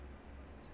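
A northern waterthrush sings a quick series of bright, high chirped notes in rhythmic repeated pairs, faint and somewhat distant over a low background hum.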